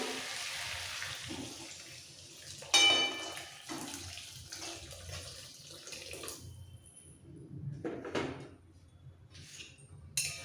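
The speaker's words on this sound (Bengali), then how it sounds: "এবার সেদ্ধ হওয়ার জন্য দিয়ে দিতে হবে জল" Water poured into a pan of sautéed papaya and potato curry, a steady running splash with a few sharper clatters, close and fairly quiet with no talk.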